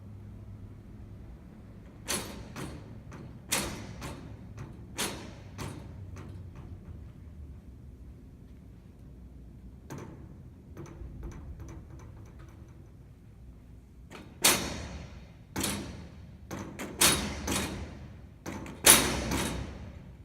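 A dog agility teeter board bangs down: sharp bangs and clatters in irregular clusters, a few isolated knocks early and a louder burst of repeated thuds toward the end.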